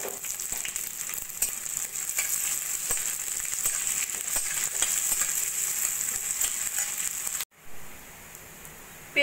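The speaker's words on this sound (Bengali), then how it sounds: "পেঁয়াজ আর রসুন সোনালি করে ভেজে নিয়েছি" Thinly sliced onions and garlic fry golden in a pan with a steady, close crackling sizzle that runs evenly, then cuts out abruptly near the end.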